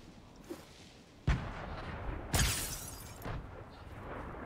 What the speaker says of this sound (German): Pass auf, ich werfe einfach Granaten über.